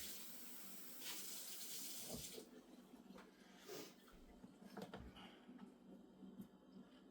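Tap water runs into a sink while chili pepper seeds are washed out, a soft steady hiss broken by a few splashes and clatters, quiet and close.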